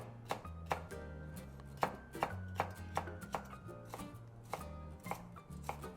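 Steady, rhythmic chops of a julienne slicer on a cutting board, crisp repeated strikes roughly every half second as carrot is cut into thin strips, with a low hum underneath.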